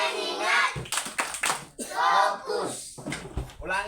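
In a classroom lesson, children chant a focus routine in unison, their voices broken by a few sharp clustered claps landing in rhythm between the chanted words.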